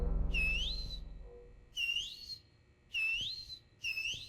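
Whistling inside the video game Backrooms: Escape Together: four short, clear rising whistle calls in an uneven rhythm, loud and isolated over a faint low hum, with no talking.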